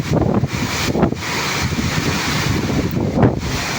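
An evening storm: gusty wind buffets the microphone in loud, rushing surges with a few sharper blasts, the roar continuous throughout and no voices.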